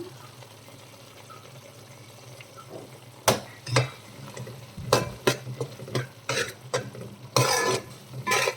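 Plantain curry with turmeric frying in a pan while a spoon stirs it, giving a low steady sizzle broken by a run of sharp scraping and clinking strokes in the second half, close and moderately loud.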